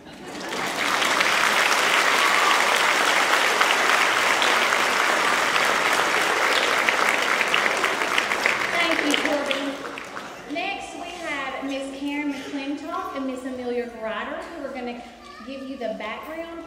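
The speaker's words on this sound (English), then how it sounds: "make sure to clap really loud" An audience at a second-grade spring children's choir concert applauds loudly and steadily for about nine seconds. The clapping then fades as a person begins speaking.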